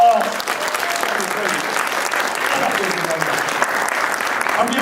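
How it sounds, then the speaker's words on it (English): A conference audience at a student leadership event gives a dense, sustained round of applause, loud and continuous throughout, with cheers and voices mixed into the clapping. "Give yourselves a round of applause."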